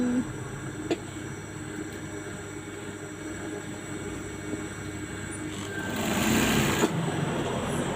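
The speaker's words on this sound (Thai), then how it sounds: "เย็บแขนก่อนนะคะอันดับแรกวิธีการที่ง่ายและเร็วค่ะ" A sewing machine stitching a school shirt sleeve runs in a steady, close mechanical whir throughout, growing slightly louder and busier near the end with no talking.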